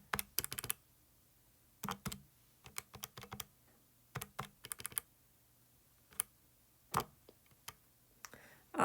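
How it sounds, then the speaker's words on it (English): Calculator keys are tapped in quick bursts of sharp plastic clicks, irregular clusters with short pauses between them, close and quiet against a faint hum. "Using your calculator and the fraction button on your calculator, just type all that in."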